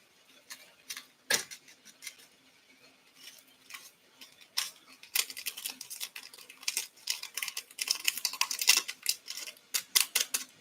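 A packet of freeze-dried instant coffee is torn open in a small kitchen setting, giving a run of crisp, close crinkling and ripping bursts that grow denser and more rapid toward the end, with no talking.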